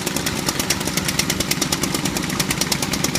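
Small two-stroke engine of a Stihl or Echo weed whacker idling after a cold start, a steady, dense buzzing drone with fast ragged pulsing that holds at constant loudness throughout, close by with no voices.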